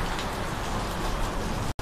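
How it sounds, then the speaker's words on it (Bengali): Steady rain falls on a stormy evening in Guwahati as lightning flashes, a dense, even wash of patter with one brief dropout near the end and no talking. "তার মানে আমরা ঠিক আসার পরটাই বৃষ্টি নেমেছে।"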